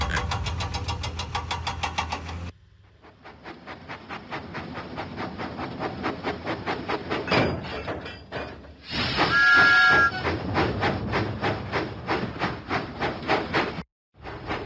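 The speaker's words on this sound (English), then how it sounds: "Thomas pumped his pistons and puffed out of the docks" Thomas the Tank Engine, in a video game, puffs out of the docks with rhythmic chuffing that speeds up, a loud hiss of steam and a short whistle blast, then a sudden stop.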